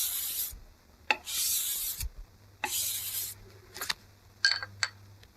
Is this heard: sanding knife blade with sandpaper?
yes